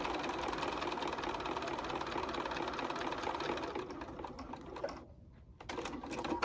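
A sewing machine stitches a fabric bunny treat bag, its needle hammering in a fast steady whir close by, then slowing and pausing briefly near the end before starting again.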